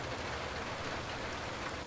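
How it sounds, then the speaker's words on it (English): Steady rain falling, a dense broadband hiss of drops on surfaces, quiet and continuous without any voices. "Rain."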